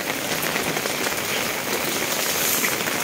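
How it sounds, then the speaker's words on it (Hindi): Steady rain pours without a break during a May downpour, with water running constantly beneath the dense patter of drops; loud, close and even throughout, with no voices. "कंटिन्यू दो तीन दिन से यहाँ पर बरसात चली रही है, और देखिए पानी यहाँ तो रात से ही चल रहा है।"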